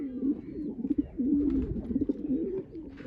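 Soft, low pigeon cooing, a steady throaty burble rising and falling, fairly quiet against faint background noise.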